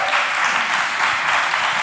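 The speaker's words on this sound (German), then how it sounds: "Und noch einen großen Applaus für die Moderatorin." An audience at a conference applauds, a dense, even wash of clapping heard throughout at moderate loudness with no voices over it.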